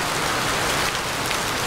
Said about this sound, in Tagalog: Sobrang ulan na naman dito sa amin.